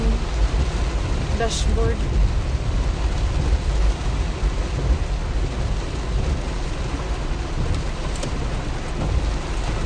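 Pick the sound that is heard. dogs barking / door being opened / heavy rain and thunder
heavy rain and thunder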